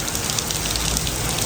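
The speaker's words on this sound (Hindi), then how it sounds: "इतनी ज़्यादा बारिश है, वो देखो" Dense, steady rain hisses without pause, a broad wash of noise filling the whole moment with no voices.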